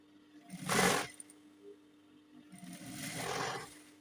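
A sewing machine stitches aso oke agbada fabric on the wrong side in two short runs, a brief loud burst and then a longer, softer stretch, with no talking.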